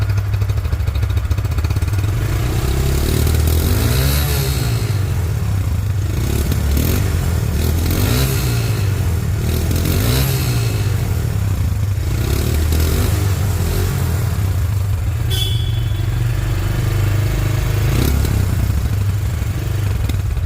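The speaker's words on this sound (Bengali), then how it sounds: "এখন গাড়িটির সাউন্ড শুনবো আমরা" A Hero Ignitor 2022 motorcycle engine runs continuously at close range, a loud, steady low-pitched drone with a rough rhythmic thrum throughout.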